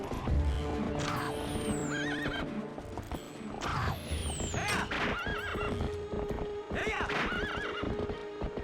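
In the video game Twilight Princess, a horse whinnies several times with rising and falling neighs over rapid clip-clop hoofbeats, while electronic game sounds run through the scene.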